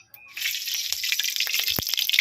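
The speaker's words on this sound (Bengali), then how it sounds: "এবার দিয়ে দেবো কড়াইতে সরিষার তেল" Mustard oil poured into a kadai (wok) for khichuri, a steady close hiss with a few small splashy ticks that starts after a brief quiet moment and keeps going.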